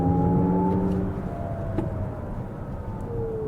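Artificial driving sound from a Lexus RZ electric SUV: steady, spaceship-like synthetic tones that glide slowly in pitch over a low road rumble, sustained and fairly close throughout.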